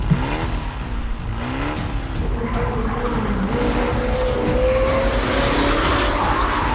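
A car speeds off as a sound effect, its engine rising and falling through gear changes into a loud sustained roar with tire squeal, heard alone and close throughout.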